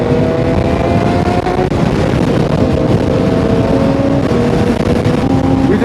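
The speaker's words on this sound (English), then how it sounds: "There's like 10 bikes" Around ten motorcycles ride together in a pack at a car meet, a loud, steady engine roar with droning harmonics that rise and fall throughout, with heavy wind buffeting and no talking.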